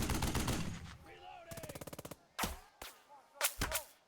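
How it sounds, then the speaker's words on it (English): Rapid bursts of .50 cal machine gun fire aimed at MG positions in the war game Burden of Command, a sharp burst followed by a fast rattling string and several separate loud cracks. "we will shoot at these MG positions with our 50 cal as well"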